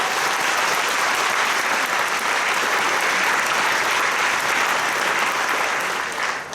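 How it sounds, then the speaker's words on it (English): An audience at a flute band's 50th anniversary concert breaks into loud, sustained applause, dense even clapping filling the hall before tapering off at the end. "Give them a big round of applause, everybody."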